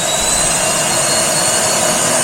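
A loud, steady high-pitched motor whine runs continuously with no pauses, a Nutribullet 1000W Juicer Pro spinning on turbo mode for oranges close by.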